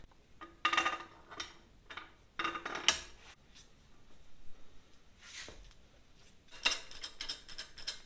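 An upper bearing cup is pressed into a freshly painted mountain bike frame, giving a few clicking, ratcheting metallic bursts with quiet pauses between them, close up and with no speech.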